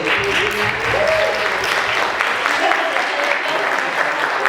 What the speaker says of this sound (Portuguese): Palmas para a Júlia.